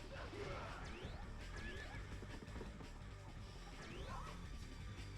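A horse whinnies in the Dynasty Warriors 2 video game amid battle noise with crashes, whooshes and hoofbeats, and the neighs recur through the busy, dense mix.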